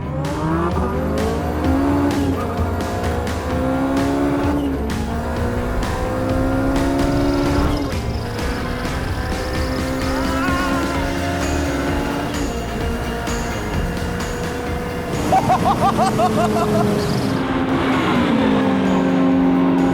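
A naturally aspirated V10 race car, a Golf R32 against a turbo Civic, screams loud and close on an airstrip, its engine note rising and falling through repeated gear changes, with tire squeal and skidding mixed in, no talking.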